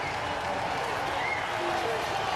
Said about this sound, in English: I'm hearing some boos. I'm hearing boos. I'm hearing claps.